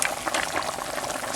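Pork and chicken pinatisan simmering in a cooking pot, a dense continuous bubbling and hissing boil heard close and fairly loud, with no talk over it.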